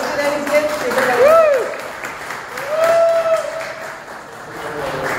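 Applause rises and falls from a gathered audience at a club's fourth anniversary celebration, running under speech and a few whistle-like tones, louder around the middle.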